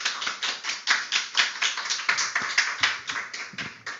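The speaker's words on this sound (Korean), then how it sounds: "우리 다 같이 박수하도록 하겠습니다." Church congregation clapping together in unison at a New Year's Eve service, a brisk, steady rhythm of loud, evenly spaced claps filling the room with no talk.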